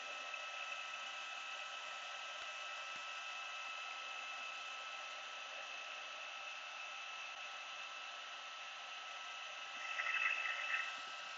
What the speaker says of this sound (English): You can speed this all up with your heat tool, and that will actually dry this